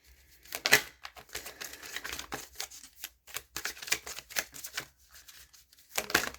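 Tarot cards being shuffled by hand in quiet surroundings, with close, crisp bursts of riffling and slapping card noise coming in irregular clusters.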